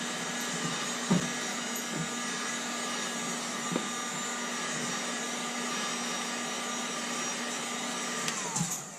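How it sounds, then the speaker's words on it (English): A heat gun blows hot air steadily while a kydex sheath is formed, a constant whooshing hum throughout with a few faint knocks and clicks of handling, and no talking. "when you're done with your heat gun, put it to where it's kind of sitting up if you can."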